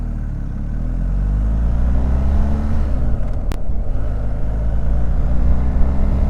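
A 2019 BMW R 1250 GS motorcycle engine hums steadily while riding, a close, continuous mid-pitched drone with wind rush. The pitch dips briefly, then climbs again as the bike pulls on.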